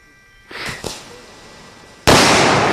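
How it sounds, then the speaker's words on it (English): A watermelon is blown up: a sharp close blast bursts out loud and sustained after a couple of softer crackling pops and a quiet lead-in. "blow up a watermelon"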